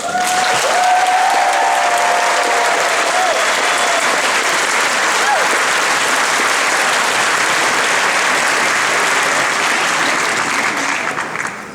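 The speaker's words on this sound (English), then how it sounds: "So let's give them one last round of applause." Loud, long applause from a large audience at a medical school white coat ceremony, a dense unbroken wash of clapping with some cheering and crowd noise, holding strong for about eleven seconds before tapering slightly.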